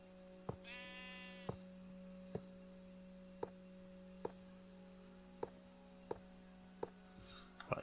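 A sheep bleats once in Minecraft with the Jurassicraft mod, a short, clear wavering call near the start, while sharp regular ticks repeat roughly every second over a low steady hum.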